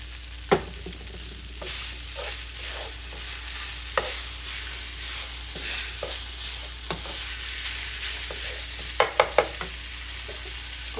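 Chicken fried rice stir-frying in a pan as sweet soy sauce goes in, a continuous soft sizzle punctuated by sharp scraping and clacking of the utensil, with a cluster of louder knocks near the end.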